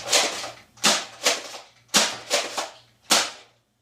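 A Jet Blaster Alpha kit foam dart blaster with an 8 kilogram spring fires six sharp, snappy shots in an uneven sequence, each a close, loud pop with a short decay, and nothing sounds after the last.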